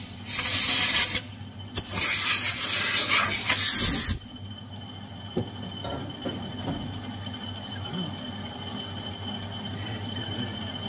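Compressed air blasts in two loud hissing bursts, about a second and two seconds long, clearing swarf from an aluminium oil-tank workpiece on a manual machine in a workshop, followed by quieter machine hum and small knocks.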